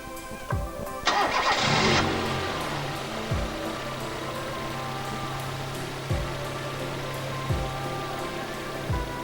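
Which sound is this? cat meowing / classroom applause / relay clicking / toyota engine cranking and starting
toyota engine cranking and starting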